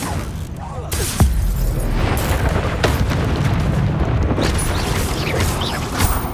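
Confringo blasting spell explosions in the video game Hogwarts Legacy, amid a spell-heavy fight, crash as a dense, loud barrage of booms and shattering bursts, with a voice speaking over the din.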